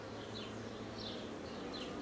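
Honey bees buzz steadily around an open hive during an inspection, a dense, continuous hum that stays close and even throughout, with no voices.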